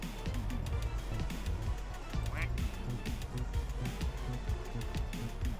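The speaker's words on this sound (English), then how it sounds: "One of our ducks got stuck outside." Cartoonish duck quacks from a video game sound out over dense, steady game music and effects, with people talking throughout.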